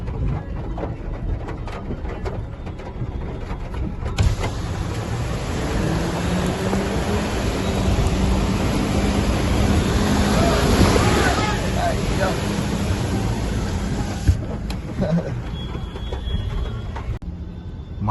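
Heavy rain heard from inside a car, a loud continuous roar drumming on the roof and glass that swells in the middle and stays dense throughout.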